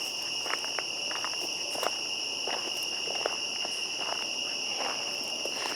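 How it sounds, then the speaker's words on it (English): Footsteps crunching at night in woods, soft uneven steps under a loud constant chorus of crickets and insects. "I feel like I can hear footsteps behind me."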